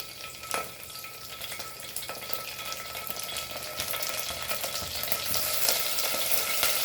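Curry leaves dropped into about two tablespoons of hot oil crackle and sizzle steadily, a dense frying hiss that swells slightly louder toward the end, with no talking over it.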